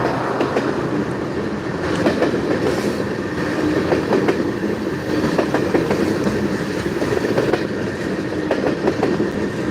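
Freight train with boxcars rolling past in Georgia, heard as a continuous loud rumble. Rhythmic clickety-clack of wheels over rail joints repeats throughout, with faint metallic squeals and no talk.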